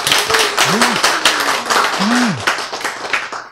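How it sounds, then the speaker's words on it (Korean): A lecture audience claps in a round of applause during a class on genetics. Sharp, close claps run throughout, and a voice talks over them. "박수"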